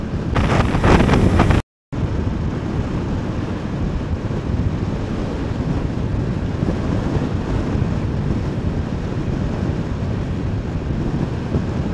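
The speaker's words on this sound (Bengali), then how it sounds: "বিরাট হাওয়া চলছে, বিরাট হাওয়া।" Strong gusty wind roars and buffets the microphone beside the Brahmani River in Odisha, a loud, unbroken low rumble lasting throughout after a brief cut near the start.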